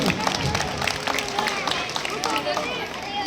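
Audience at a village school prize ceremony during an Ambedkar Jayanti celebration claps for a girl who placed third, with dense crowd clapping and chatter running steadily throughout.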